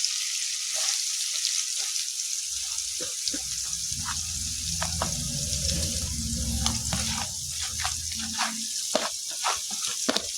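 Garlic frying in a pan for a Kanchipuram garlic chutney gives a soft, steady sizzle lasting several seconds, with scattered crackles and light clicks nearby.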